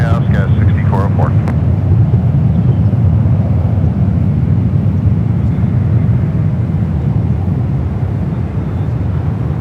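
A jet airliner takes off from runway 1 right at San Francisco airport, bound for Vancouver: a loud, steady, low engine roar fills the whole stretch, and brief radio chatter sounds at the start.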